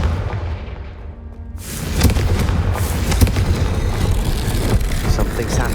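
The Confringo blasting spell in Hogwarts Legacy goes off as a loud, rushing explosive burst that swells after a quieter lead-in and stays as a dense, roaring blast with rumbling low end.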